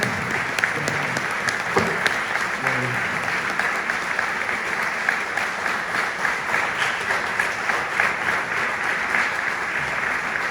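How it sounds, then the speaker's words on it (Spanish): A lecture-hall audience at an academic talk breaks into sustained applause, a dense and even patter of many hands clapping at a steady level for over ten seconds with faint voices mixed in. "todos debemos darle un fuerte aplauso"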